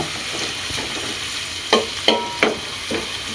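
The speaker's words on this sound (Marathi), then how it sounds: "भाजा करूया ना कांदो" Onion frying in a pan on low heat for a Malvani jackfruit bhaji, a steady sizzle broken by several sharp utensil scrapes and knocks near the end, close and clear.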